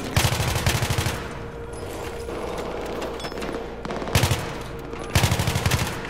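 Automatic weapon fire in Battlefield 3, loud rapid bursts of rattling shots at the start, again near four seconds and at the end, with a quieter stretch of game ambience between bursts.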